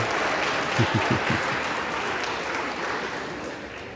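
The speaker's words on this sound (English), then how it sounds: "We can stop clapping." A large crowd on the floor of the House claps during the speaker vote tally: steady, dense applause that lasts throughout, with a short burst of low voices near the start.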